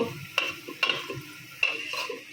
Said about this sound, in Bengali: লাল লাল করে ভেজে ভালো করে একটু হলুদ দিয়ে দিচ্ছি আলুতে